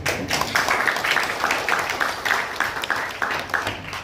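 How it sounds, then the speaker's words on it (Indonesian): At a family reunion gathering in Blora, Central Java, a small group claps in a rhythmic, fairly close patter, distinct individual claps pulsing evenly for a few seconds. "Tepuk tangan."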